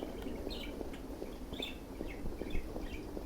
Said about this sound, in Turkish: Bizim kuş azdı arkadan duyduğunuz üzere.